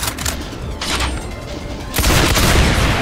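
A rail gun firing in a video game, heard as a dense burst of booming blasts that swells louder near the end, with no talking.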